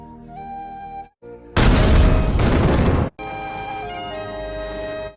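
A car blows up in a film scene: a tense musical tone cuts out, then a massive roaring blast rumbles for about a second and a half before music resumes, loud and full.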